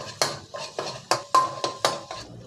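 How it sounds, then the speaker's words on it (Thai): A spatula chops fried egg into small pieces in a pan while making shrimp-paste fried rice with mackerel, giving six sharp metallic scrapes and clinks in a steady rhythm, close and fairly loud, with no talk. "แล้วก็ตัดตัดไข่ให้มันเป็นชิ้นเล็ก ๆนะครับ"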